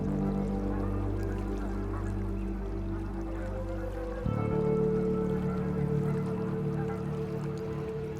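Canada geese honking in a steady dense chorus, a large flock calling continuously at moderate loudness with no voices over it.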